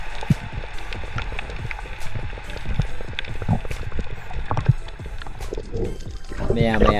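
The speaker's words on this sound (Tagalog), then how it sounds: "naririnig pa rin natin yung tunog or sounds ng" Dense, muffled patter of heavy rain striking the sea surface, heard from below while spearfishing in the Philippines, a steady wash with scattered louder drops and a burble of bubbles near the end.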